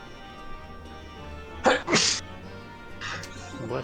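Two sneezes in quick succession, the second right after the first, loud and close over a quiet background, followed by faint sounds afterward.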